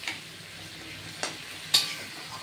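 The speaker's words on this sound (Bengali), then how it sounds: "এই যে এবার একটু জল দিয়ে দেবো, কারণ কুমড়োর থেকে বেশি জল বেরোয়নি" Pumpkin cooking in a pan sizzles steadily at close range after a splash of water is added, with a few sharp clinks and scrapes of a utensil stirring against the pan.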